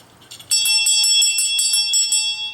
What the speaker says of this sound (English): is a brand new bell.